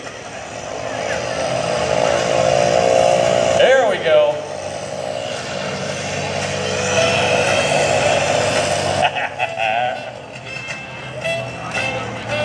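A P-51D Mustang's Merlin engine roars through a pass at a Rhode Island ANG open house airshow. The sound is loud and sustained, with a pitch sweep mid-clip, under an announcer's talk.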